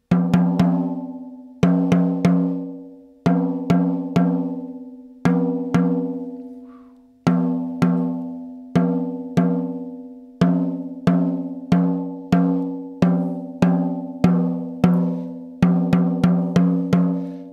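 A drum's top head is tapped repeatedly while being checked for tuning, single ringing hits spaced in small groups, each tone sustaining and decaying, heard alone and close.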